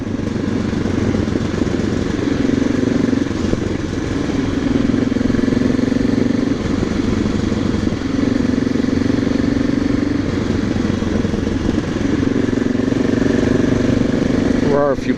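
Motorcycle engine running steadily and loud throughout, with repeated rises and falls in pitch as the throttle is blipped on downshifts; a voice talks over it.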